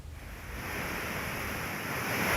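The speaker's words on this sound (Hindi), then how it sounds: "कैनाल से बड़ी तेजी से पानी निकल रहा है।" Water gushes at high speed out of the breached canal of the Bansagar dam, a steady broadband rushing roar that builds slightly and holds constant, fairly distant, with no voices.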